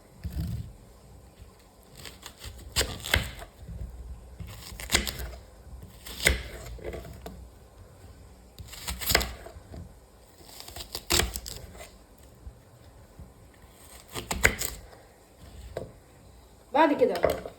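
A knife chops onions into quarters on a cutting board, with irregular sharp cuts and thuds spaced a second or two apart, fairly close and quiet, before the pieces go into a glass bowl.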